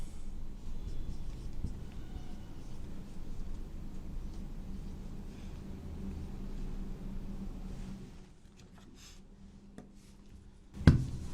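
Chalk or marker scratches across a classroom board while chemistry formulas are written, a faint, steady scraping over a low background rumble that continues for most of the stretch, ending in a single louder knock.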